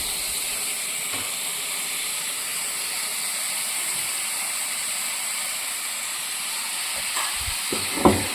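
Chicken pieces drop into hot spice powder in a pan for chicken curry, giving a steady broad sizzle and hiss close by, with a few soft clinks near the end and no talk.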